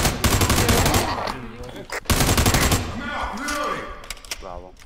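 Rapid automatic gunfire from a military shooter game, America's Army Proving Grounds, crackles loud and dense nearly throughout, with a brief gap midway and faint voices mixed underneath.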